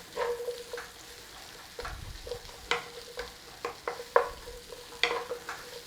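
Vegetables stir-fry in a hot pan, giving a soft steady sizzle broken by scattered scrapes and clinks of a utensil against the pan. The sound is near and moderate, with no talking.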